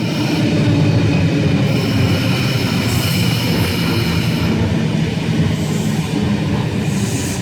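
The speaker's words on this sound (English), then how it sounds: "At Mascot, we have S146 and Friend now arriving on platform number 2." An S-set electric train, set S146, pulls into platform 2 at Mascot station with a loud, steady, continuous rumble of wheels and motors close by, and no voices.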